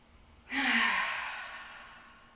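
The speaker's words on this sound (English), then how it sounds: "Once again with the chin tucked, inhale and exhale." A single long breath during a seated stretch for sciatic and low back release, a quick intake leading into a soft, drawn-out sigh of exhalation that fades away, close and quiet.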